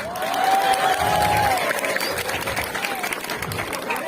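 An audience at an Indonesian comedy show breaks into applause with some cheering, clapping spread through the clip while a voice carries over it.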